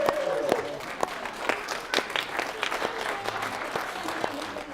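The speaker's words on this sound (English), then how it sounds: "Give them a round of applause." Wedding guests applaud during the toasts at a reception, a dense round of clapping with sharp individual claps standing out, fairly close and sustained throughout.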